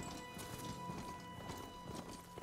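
In the video game Horizon Forbidden West, a ridden mount's hooves beat out a quick, soft clip-clop rhythm at low volume under a faint game soundscape.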